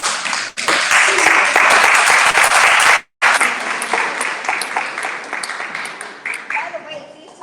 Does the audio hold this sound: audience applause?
yes